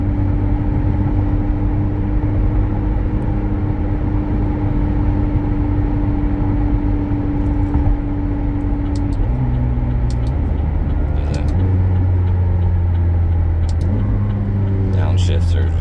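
A 2020 McLaren 600LT's engine drones loud and close while driving, then drops through stepped pitch changes as it downshifts quickly, with brief high-pitched bursts between gears.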